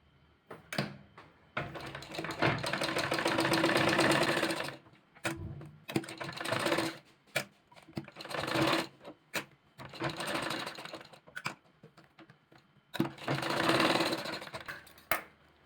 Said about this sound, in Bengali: দুই পাশে সেলাই করে নেব।